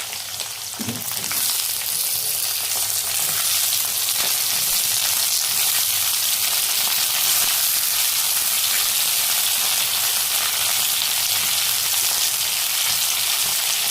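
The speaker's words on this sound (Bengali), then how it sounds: "দিয়ে দেবো বেগুন, এই সবজিগুলো একটু ভেজে নেব।" Radish, eggplant, yardlong beans and egg frying in a pan, a steady loud sizzle that carries on without a break, with a brief clatter near the start.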